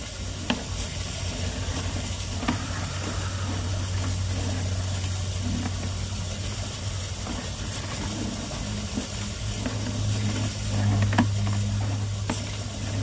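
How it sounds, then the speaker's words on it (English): A garden hose running at full bore gives a steady, dense rush of water that holds at an even level with no breaks, a low hum underneath. "I'm also running a garden hose at full bore right now."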